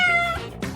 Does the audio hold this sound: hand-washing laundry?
no